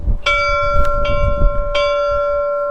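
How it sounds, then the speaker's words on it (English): A bell at Capdepera Castle in Mallorca rings out with several loud strikes, each leaving a long, bright, sustained ringing tone that hangs between blows. "She's ringing the bell."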